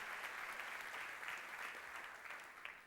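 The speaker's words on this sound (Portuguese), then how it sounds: "Quer aplaudir? Pode aplaudir." A church congregation at a worship service breaks into applause, a steady wash of clapping from many hands that continues throughout and fades slightly toward the end, quiet overall and with no talk over it.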